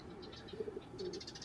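Domestic pigeons suffering from pox coo softly in a series of low, rolling calls, with faint chirpy bird sounds around them and no talking.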